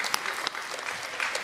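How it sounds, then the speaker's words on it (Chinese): Audience applause at a live Chinese crosstalk comedy show fills a short burst, with dense, loud, steady clapping from a large crowd and no other sound. "鼓掌吧！"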